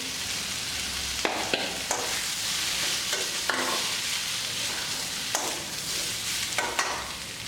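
Onions and potatoes fry in a pan with a steady broadband sizzle, while a spoon scrapes and stirs through them in irregular bursts, close and fairly loud.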